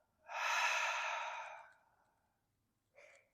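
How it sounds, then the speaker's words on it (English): A single long, deep exhaled breath, an airy whoosh that swells and then fades over about a second and a half, followed by a short, quieter breath. "Deep breath in, fill all the way up. Exhale it out."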